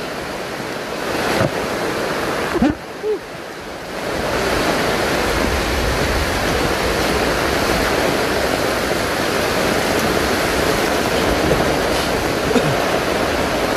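Strong, steady rush of floodwater surging into the sea, a loud broadband roar of surf and churning water that swells after a brief lull and then holds constant, with wind buffeting the microphone.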